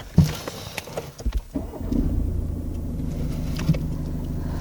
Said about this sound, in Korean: 디젤 모델인 만큼 연비가 정말 좋고 어느 정도의 이제 소음이 느껴지게 되는지 한번 시동을 걸어보겠습니다